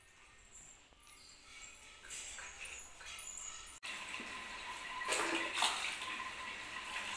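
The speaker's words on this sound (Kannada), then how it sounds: "ಈಗ ನೋಡಿ, ಮೀನನ್ನು ತೊಳಿತಾ ಇದ್ದೀನಿ ನಾನು" Water splashes and sloshes continuously as bangude mackerel fish are washed by hand at home, a steady wet churning that grows louder and busier partway through, with no talk.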